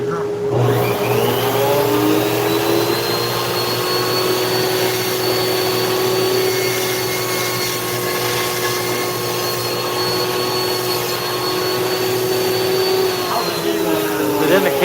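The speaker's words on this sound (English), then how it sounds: "then we'll probably switch over to the Dremel" Dremel rotary tool with flex shaft carving a wooden owl, giving a steady high-pitched whine that spins up, holds with slight pitch shifts as it bites the wood, then winds down.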